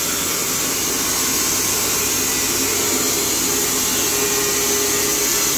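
A Carpathian SMSA 110 semi-automatic sawmill hums in a loud, steady, unbroken drone with a bright whine on top, close by and with no talk.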